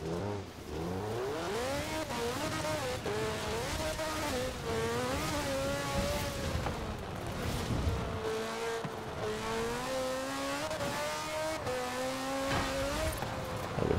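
A car in Forza Horizon 4 holds top speed in fourth gear, its engine a steady, loud, continuous drone with a gently wavering pitch throughout, alone without talk.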